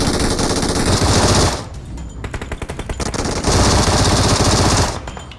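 Automatic gunfire in the PUBG Mobile battle royale game: long, loud, rapid bursts of shots with a short gap of sparser shots between them, close and dense with no talking.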